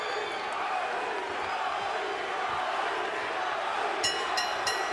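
A boxing arena crowd in Corpus Christi roars steadily during a Mikey Garcia vs Rocky Martinez bout, a broad wash of cheering and shouts with a sharper burst near the end, while voices talk over it.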